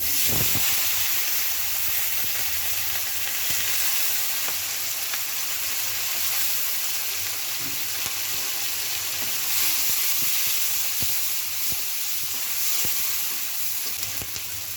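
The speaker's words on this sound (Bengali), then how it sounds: "এখন মাছ তেলের মধ্যে দিয়ে দেবো জিরে দিবে দেবো কাঁচামরিচ পেঁয়াজ" Pangas fish sizzles loudly in hot oil with cumin, green chillies and onion, a dense, continuous frying hiss broken by scattered crackles and occasional stirring scrapes, with nobody talking.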